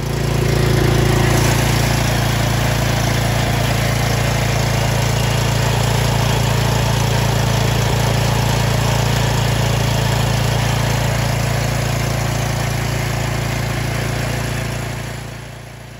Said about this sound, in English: I thought I would let them hear just so they could listen to my engine